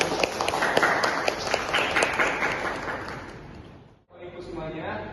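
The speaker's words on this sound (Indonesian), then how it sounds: "Beri tepuk tangan untuk Bapak Perawat." An audience claps steadily for a nurse at an earthquake disaster roleplay event at Universitas Bhamada Slawi, dense, even applause that fades out near the end before a brief rise of room noise.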